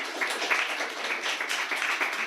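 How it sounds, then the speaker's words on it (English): An audience at a Global Game Jam opening presentation applauds the organizers and volunteers, a dense, steady patter of many hands clapping, moderately loud and continuous throughout. "So round of applause for all the organizers and volunteers."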